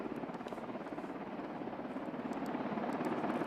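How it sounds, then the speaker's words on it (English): Marine One helicopter after touching down in Davos, a steady loud rotor thump with a pulsing beat that swells slightly toward the end, heard alone without speech. "this is the Marine One helicopter that has touched down in Davos"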